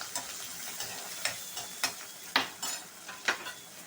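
Boiled cowpeas with curry leaves, ginger and green chili are stirred in a pan, with a soft crackle under regular spoon taps and scrapes about every half second.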